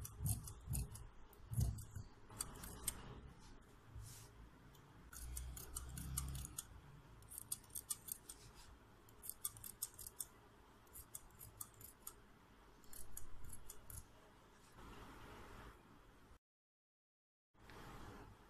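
Scissors snipping through fabric strips for piping on a young girl's frock: repeated crisp metallic clicks and snips in short clusters, close and fairly quiet, with rustling cloth between cuts and a brief silent gap near the end.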